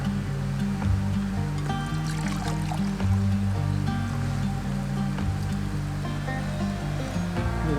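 Hot water poured steadily into a coffee cup over rose hips outdoors, making a continuous close gurgling splash with no talk throughout.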